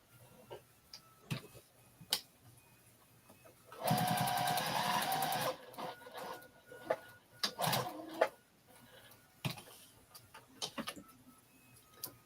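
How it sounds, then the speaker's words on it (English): A quilt is stitched on a sewing machine in a short, quiet run of about two seconds, with scattered small clicks and handling taps before and after. "Now I want another stitch here."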